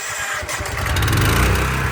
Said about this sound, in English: So let's get the engine cranked up. Electric starts really nice.